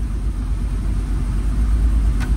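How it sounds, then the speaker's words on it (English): A Jeep Wrangler's engine idles steadily just after starting, with a low, even rumble that carries through the whole stretch at close range. No one speaks. "Let's see if she'll start. Oh yeah, started right up."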